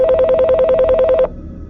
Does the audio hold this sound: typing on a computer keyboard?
no